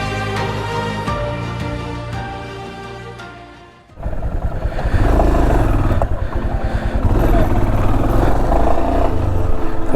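A motorcycle on an off-road Himalayan adventure ride from Kolkata to Sandakphu, its engine droning loud and close with rough, steady revving after a brief lull, no talk over it.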